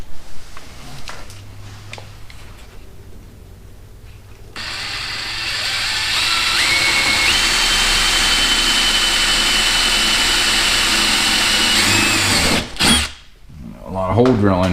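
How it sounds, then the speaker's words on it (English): A power drill bores a hole for tail lights in a trunk, whirring at a steady high pitch for several seconds after quieter handling noises, then stopping abruptly. "And I just got to drill another hole up here."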